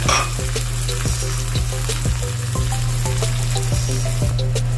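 Chicken pieces sizzle and fry steadily in a hot pan with added water, a dense continuous crackle broken by regular stirring scrapes and clinks, close and loud throughout.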